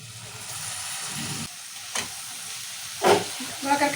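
Boiled ivy gourd being stirred into a masala in a hot pan, giving a continuous sizzle with a few distinct scraping strokes of the spoon near the end, close and unaccompanied by speech.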